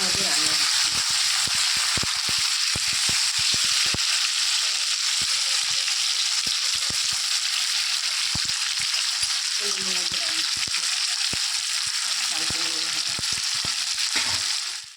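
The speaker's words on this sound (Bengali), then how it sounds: "ভাজা হয়ে গেছে এই জয়ফলটা তুলে নেওয়া হচ্ছে" Nutmeg and other spices fry in hot oil in a pan, giving a loud, dense, continuous sizzle close by. Sharp clicks and stirring scrapes come through it, and no voices are heard.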